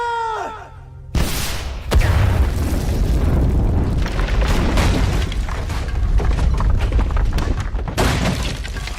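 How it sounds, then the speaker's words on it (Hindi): A rocket launcher fires in a Bollywood action movie scene, and a heavy boom erupts into a loud, sustained roar of blast and debris rumbling for several seconds before fading slightly. "जनाब rocket launcher load. Fire. Fire."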